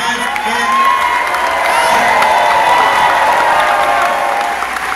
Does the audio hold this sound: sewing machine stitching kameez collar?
no